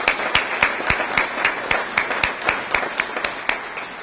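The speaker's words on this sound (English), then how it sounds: "I think that they need a round of applause for that." An audience at a college distinguished alumni ceremony breaks into applause, a dense, fairly close patter of many hands with sharper individual claps standing out, steady throughout.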